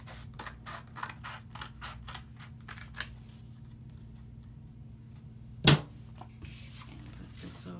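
Scissors cutting out a paper transfer sheet for a glass trivet, a rapid series of close, crisp snips at the start, then quieter handling and one sharp rustle, over a low steady background hum.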